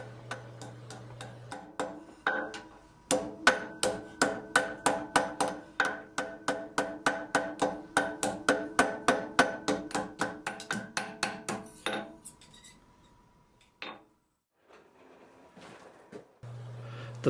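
Hammer striking hot iron as a latch handle is shaped over the anvil horn, a long run of rhythmic ringing blows, loud and close, ending in quieter taps and silence.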